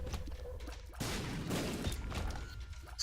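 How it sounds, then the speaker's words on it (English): Explosions burst one after another in The Binding of Isaac: Afterbirth+ during a boss fight, loud, dense crunching blasts that overlap with game effects, with no voice. "Explosions everywhere."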